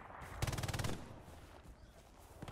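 Gunfire in the World War II shooter Hell Let Loose: a brief rapid burst of shots, fairly close, followed by quieter scattered distant pops.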